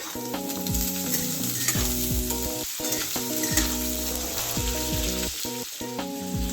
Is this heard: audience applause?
no